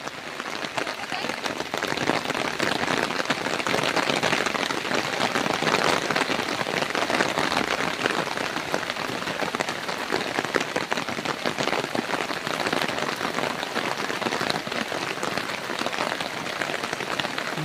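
A heavy downpour on a rainy fishing day, a dense, constant roar of drops hitting surfaces, steady and enveloping from start to finish with no let-up.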